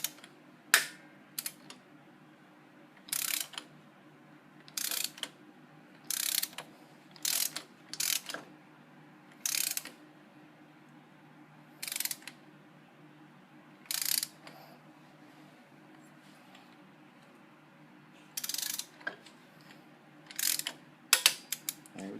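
Ratchet clicking in repeated short bursts while bolts on Honda CTX700N motorcycle crash bars are tightened, close and crisp, with pauses between strokes and no talking.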